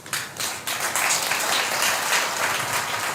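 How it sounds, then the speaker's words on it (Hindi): A crowd of devotees at a darbar clapping together in unison, loud and dense, with a brief dip early on before the applause swells and continues steadily. "सब दरबार में सब एक साथ ताली बजा करके समर्थन हुआ"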